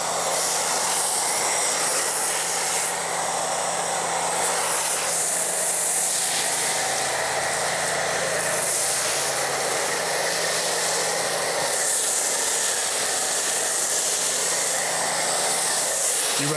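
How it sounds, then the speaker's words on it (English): A foam sprayer hisses steadily and loudly as it coats a Chevrolet Silverado 2500 in car wash foam. The spray runs without a break for over fifteen seconds, with a low rumble underneath. "So let's go ahead and foam this down."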